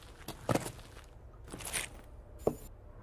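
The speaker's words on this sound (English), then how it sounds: "try to get some footstep audio" Footsteps in the video game Escape from Tarkov: a few scattered, soft steps and scuffs at uneven intervals, faint and somewhat distant against a quiet background, no talk.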